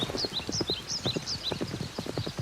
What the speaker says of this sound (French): Allez, commence. Galop! Galop! Encore plus vite.